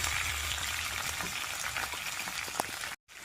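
Cumin seeds and green chillies frying in hot oil for radish curry, a dense close crackling sizzle that holds steady, then cuts out briefly near the end.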